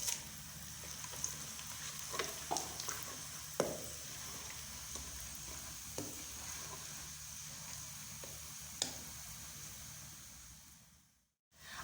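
Whole spices for a vegetable pulao fry in hot oil with a steady, close sizzle, punctuated by scattered stirring clicks and scrapes, ending in a brief drop to near silence.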